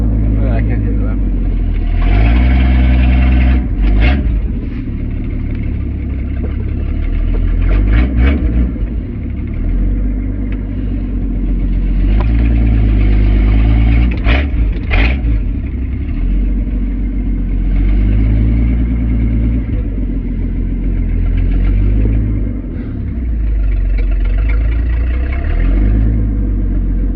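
An old cord-start truck engine idles and rumbles at close range, a steady low throb with occasional revving surges, heard beneath ongoing talk.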